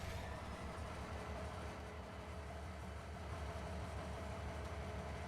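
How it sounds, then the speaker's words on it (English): A train in the farming game Farming Simulator 19 hums with a steady, low rail rumble that holds constant and fairly quiet throughout, with no speech over it. "Now my train has just stopped here."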